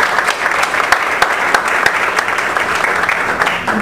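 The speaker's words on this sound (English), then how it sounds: "Let's give him one more round of applause." An audience at a talk on mobile technology gives a guest speaker a fresh round of applause, dense and steady clapping close by for nearly four seconds with no voices over it.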